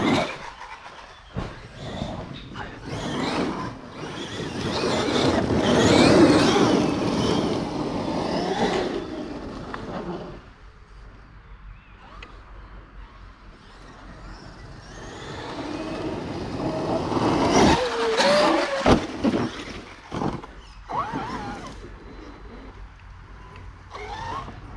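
A Sledge Hammer RC car with a brushless motor revs in bursts, its whine surging loud around the middle and again near the end between quieter stretches, with rattling and clatter mixed in.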